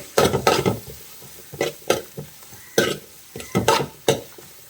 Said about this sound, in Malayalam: അതിൻ്റെ കൂടെ തന്നെ നമുക്ക് കുറച്ച് ചെറിയ ഉള്ളിയും കൂടി ചേർത്ത് കൊടുക്കാം. എല്ലാം കൂടി നന്നായിട്ടൊന്ന് വഴറ്റി കൊടുക്കാം.